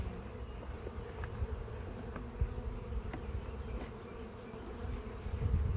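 Honey bees buzz in a dense, steady drone around nuc hives that were just moved, with individual bees zipping close past and away, no voices.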